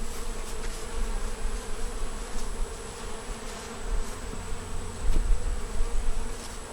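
Honeybees hum steadily at a hive with a three-year-old queen, the field bees back inside, making a dense, close, continuous buzz that swells and dips slightly.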